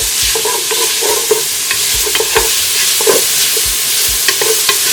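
Chopped onion frying in a hot pan, a steady close sizzle with frequent scraping and stirring clicks of a utensil against the pan, no voices.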